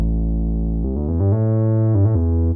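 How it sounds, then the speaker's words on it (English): Deep sustained synth bass from a Sub 50 synthesizer at a live studio session, a long held low note sliding into a run of thick, buzzy bass notes, loud and close with no voices. "So Jason, today you had a sub 50 for your most of the bass"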